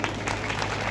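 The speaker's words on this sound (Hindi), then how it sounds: "थोड़ा बहुत एक बार ताली बजा दो" An audience at a devotional bhajan performance claps in a brief, dense burst of applause that stays steady and fairly soft for about a second.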